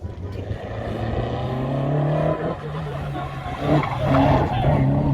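Race car at the Isle of Wight speed trials sprint at Sandown, its engine droning loud and steady with rising pitch as it powers through, tyre noise mixed in and a commentator talking over it throughout.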